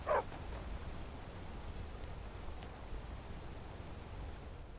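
A dog in Skyrim gives a short bark at the very start, then ambient game noise carries on with no further barking.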